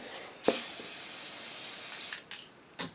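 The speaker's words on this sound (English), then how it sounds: "We're going to spray in some reds." Spray paint blasting red onto a canvas, a close, loud hiss that runs steadily for nearly two seconds, then two short bursts.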